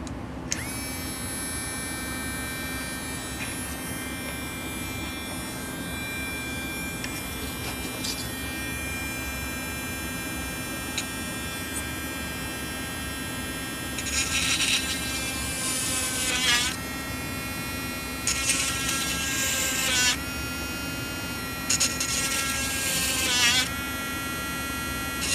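A small high-speed Dremel rotary tool whines steadily, then bites into a circuit board in several harsh bursts near the end, loud and close.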